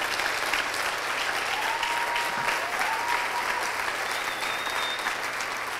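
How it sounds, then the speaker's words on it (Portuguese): A church congregation bursts into loud, sustained applause after a baptism of eighteen people, a dense wash of clapping from a large crowd that holds steady throughout. "Isso merece uma salva de palmas"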